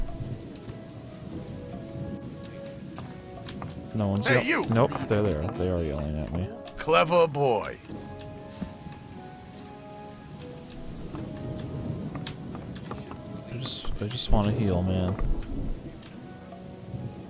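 Steady rain falls in the fantasy role-playing video game Gothic, a soft continuous patter running under repeated loud character voices; no distinct thunder stands out.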